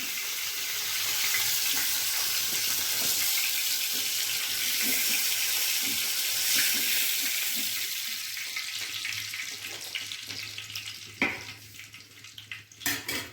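Lemons frying in very hot oil in a wok for pickle, a loud, dense, continuous hiss that eases toward the end, where a few sharp clatters break through.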